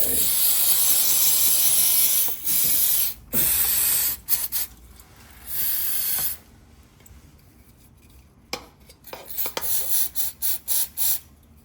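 Several loud bursts of hissing aerosol cleaner spray on a Subaru WRX differential, a few seconds each, separated by pauses, then shorter quick spurts with clicking at the end.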